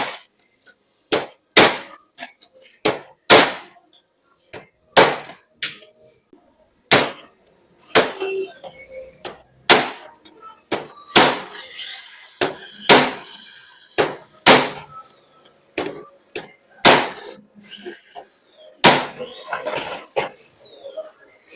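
A hammer and screwdriver tightening the engine springs on a Suzuki Gixxer motorcycle, sharp metallic clanks struck one by one in an uneven rhythm with short pauses between blows, close and loud in a quiet workshop.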